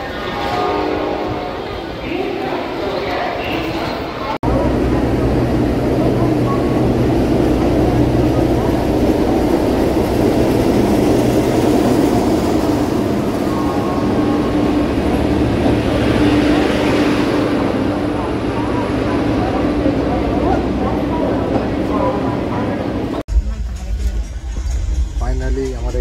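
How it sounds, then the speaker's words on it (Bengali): A Howrah to Haridwar train pulls away, a loud, steady rolling rumble that swells in after a few seconds and holds before cutting off, with voices talking over it. "ফাইনালি আমাদের ট্রেন ছেড়ে দিয়েছে।"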